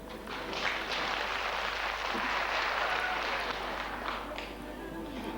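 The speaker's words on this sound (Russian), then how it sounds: "Аплодисменты нашим участницам" Audience applause for contestants at a children's city princess pageant, a steady dense wash of clapping that holds for several seconds, moderately loud and fairly even, with no one speaking over it.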